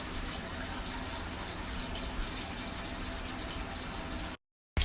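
Water pours in a steady, close, rushing stream as a drink is filled, continuing evenly for over four seconds before cutting off abruptly.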